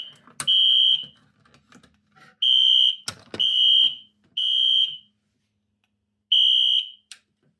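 During a test, a fire alarm sounds in repeated loud, shrill, harmonic bursts of about half a second to a second, five in all with gaps between, over scattered clicks and knocks.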